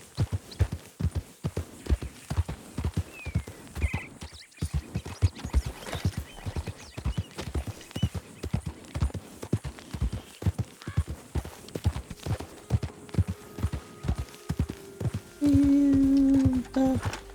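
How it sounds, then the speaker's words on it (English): A horse's hooves clip-clop in a steady, brisk rhythm in Red Dead Redemption 2, close and continuous, with a short whinny near the start and a sustained tonal hum near the end. "He is a good horse."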